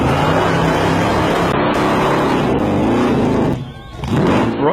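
Supercharged alcohol-burning 8.2-litre Chevy V8 burnout car, about 700 horsepower, roaring loud and sustained at high revs, then dipping briefly off throttle before surging back up.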